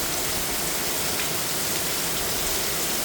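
Heavy rain pours down in a dense, steady roar with a waterfall-like rush at night in Chandler, Arizona, loud and continuous throughout with no voices.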